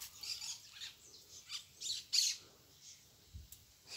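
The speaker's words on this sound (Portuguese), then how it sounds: "Periquito cantando." Parakeet singing outdoors: a run of faint, scratchy squawks and chirps in short bursts, fairly distant, with a brief low thump near the end.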